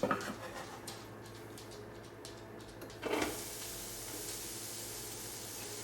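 Onions dropped into a hot pan burst into a loud, steady hiss around the three-second mark that settles into continuous frying sizzle, after a quieter stretch of background clatter.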